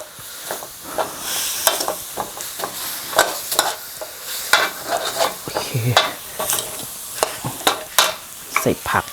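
Ingredients pan-roasting for a Thai chicken curry, sizzling steadily while a utensil scrapes and stirs in frequent close strokes.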